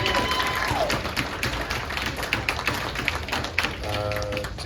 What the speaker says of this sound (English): let's clap one more time, a little bit more